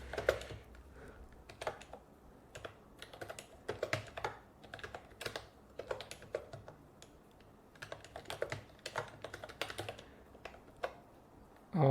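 Someone typing on a computer keyboard during an online workshop, a close, quiet stream of irregular key clicks arriving in short bursts with small pauses between them.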